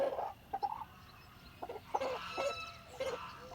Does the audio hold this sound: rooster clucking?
yes